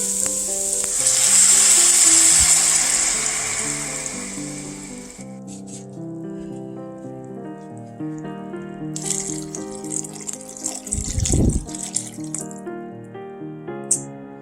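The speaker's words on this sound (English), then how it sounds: "Next, bring out your dry red wine. Does not have to be a good wine, but it can be. And let's add 2 cups of wine." Two cups of dry red wine poured into a hot pot for beef bourguignon, a loud sizzling hiss that fades into a bubbling simmer under soft background music, with a spoon stirring near the end.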